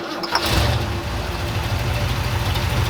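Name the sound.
engine of abandoned Ford F-250 truck starting and running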